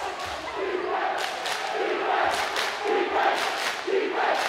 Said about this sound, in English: Can hear this crowd for the Lancers.